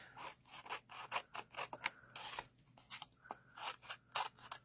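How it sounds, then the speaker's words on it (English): Paper for a craft project being trimmed with scissors, a rapid run of crisp, close snipping cuts in quick succession, quiet and with no voices. "I need to actually trim this down here because it won't fit through my die cut machine"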